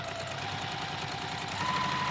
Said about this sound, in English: So now I'm going to sew just like I did before.